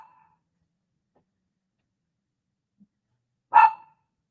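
A pet dog indoors gives one sharp, loud bark after a long near-silence, with a fainter earlier yip.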